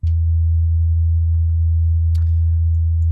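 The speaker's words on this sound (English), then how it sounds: "So we have our sine wave" A steady low sine wave tone plays through the FL Studio 12 Fruity Chorus effect, loud, constant and unbroken, with only a few faint clicks from the software above it and no voices.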